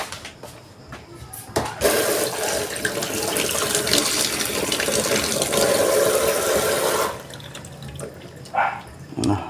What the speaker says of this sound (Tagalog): Hugasan na natin yung bawang ito.